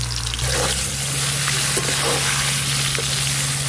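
Cut potatoes with salt and turmeric frying in a pan for a meat-style curry, giving a steady, dense sizzle that holds evenly at close range, with no talk over it.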